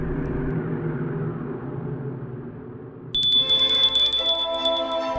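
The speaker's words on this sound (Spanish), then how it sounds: "sonó la campana para el té de las 5" A bell rings out for five o'clock afternoon tea, its bright, sustained metallic tone entering suddenly over a low rumbling background and continuing to the end.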